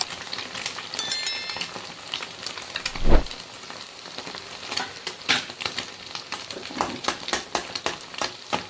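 Ginger garlic paste sizzles and crackles in a pan while cooking a cauliflower egg fry. A steady, close frying hiss is broken by sharp pops and a brief clink of metal.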